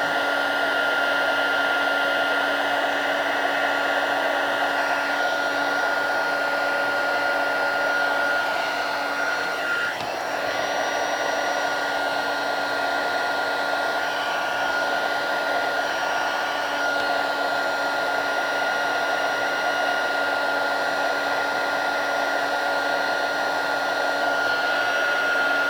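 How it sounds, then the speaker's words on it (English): A heat embossing tool blows hot air over a paper origami-style star decoration, a steady, loud, continuous whirring hiss with a constant tone, running alone without pause. "As you do your heat embossing,"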